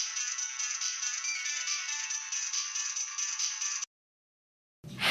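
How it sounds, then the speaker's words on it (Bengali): A phone ringtone plays loud and steady for nearly four seconds, cuts off into silence, then a burst of sound returns at the end. "একটা ফোন আসছে।"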